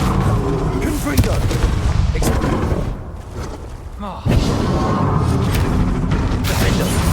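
Repeated Confringo spell blasts in Hogwarts Legacy, loud booming impacts and crackling bursts in dense game combat, with a brief lull before another heavy hit and continued explosive clatter, voices calling spells over it.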